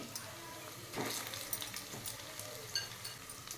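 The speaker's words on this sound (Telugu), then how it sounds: "ఇది మంచిగా కలుపుకోవాలండి మంచిగా ఫ్రై చేసుకోవాలి" Chicken pieces coated with salt and turmeric frying and being stirred in a pan, giving a soft close sizzle with a few scraping stirs, fairly quiet overall.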